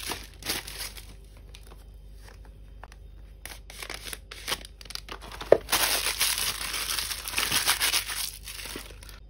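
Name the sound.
unwrapping two perfume bottles, Narciso Pure Musc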